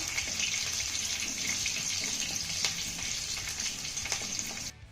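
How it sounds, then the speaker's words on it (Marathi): Garlic with curry leaves frying in a pan, a continuous bright sizzle with occasional crackles and pops, close and steady before cutting off abruptly at the end. "त्यानंतर हा लसूण आपल्याला हलक्या सोनेरी रंगावरती परतून घ्यायचा आहे"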